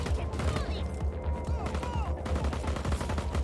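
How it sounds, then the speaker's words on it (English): Gunfire in the video game Just Cause 4: rapid bursts of shots and automatic fire crackle nearly continuously over a loud game soundscape, with some voice underneath. "I'm getting shot at by something."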